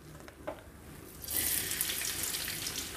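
Chopped onions and green chilies hitting hot oil in a pan, a quiet start with a small clatter, then a sudden bright hissing sizzle that holds steady to the end.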